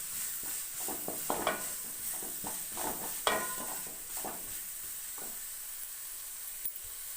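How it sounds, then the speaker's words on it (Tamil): Ginger-garlic paste sautéing in a pan for chicken chinthamani, a soft sizzling hiss punctuated by repeated scrapes and taps of a spoon stirring against the metal, nearby and moderately quiet, no speech. "இஞ்சி பூண்டு பேஸ்ட் நல்லா வதங்கிடுச்சு."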